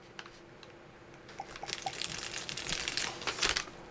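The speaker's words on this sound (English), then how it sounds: "So let's take our canteen and fill up to the fill line with water." Water trickles into a military ration canteen up to the fill line, quiet at first, then rising into a gurgling stream with a few drips and splashes, close to the ear.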